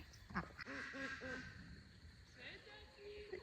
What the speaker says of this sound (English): the ducks came running over as fast as they can waddle